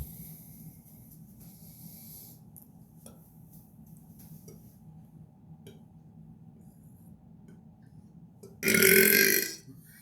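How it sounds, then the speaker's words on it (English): A single loud, drawn-out human burp of nearly a second arrives near the end, after a long quiet stretch with faint room noise and small clicks. "that's a big burp"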